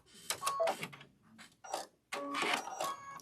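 A sewing machine stitching off the corner of a fabric door banner in short bursts of rapid mechanical whirring separated by brief pauses, quiet and close.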